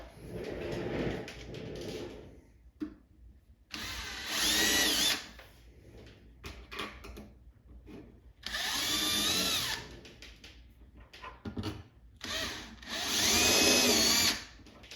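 A power drill whirs in three sustained bursts of a few seconds each, separated by quieter handling noises and clatter, close and loud; drilling holes in pinball machine side rails.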